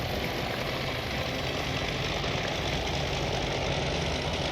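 A military aircraft engine in the Task Force Admiral naval air combat game drones steadily as the throttle is cut while the plane passes over the USS Phelps, a loud, continuous low rumble with no break.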